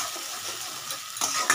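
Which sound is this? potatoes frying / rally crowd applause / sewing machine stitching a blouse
potatoes frying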